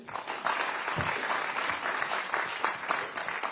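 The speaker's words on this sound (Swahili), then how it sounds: "Makofi kwa Jane." A crowd claps for a woman named Jane at a disability-focused gathering in Nairobi City County, with sustained, fairly loud applause throughout and no talking over it.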